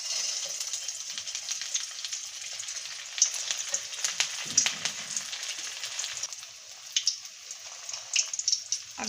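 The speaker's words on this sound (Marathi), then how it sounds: "अगदी मंद गॅसवरती आपल्याला हे दोन्ही बाजूनी चांगले तळून घ्यायचे" Breadcrumb-coated chicken kababs shallow-frying in oil over a very low gas flame, giving a steady soft sizzle with scattered crackles and small pops throughout, close and moderately quiet, no voices.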